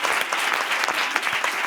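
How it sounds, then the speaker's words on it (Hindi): An audience at a public speaking session gives loud applause for a new speaker. Many hands clap in a dense, continuous burst close by, with no talking over it. "नए स्पीकर के लिए जोरदार तालियां"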